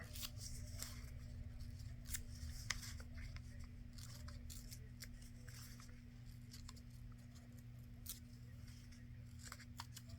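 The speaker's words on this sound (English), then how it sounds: "We'll just go ahead and tear them off real quick." Book page paper is torn in a series of quick, soft rips and rustles, close and quiet over a low steady hum.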